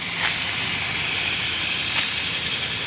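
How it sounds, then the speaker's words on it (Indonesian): A large saw grinds through stone in a steady, loud, hissing whine that continues unbroken, with no voices. "ada orang sedang memotong batu ya, pakai mesin besar itu"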